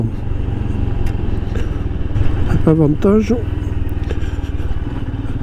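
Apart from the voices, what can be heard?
Royal Enfield Himalayan motorcycle engine riding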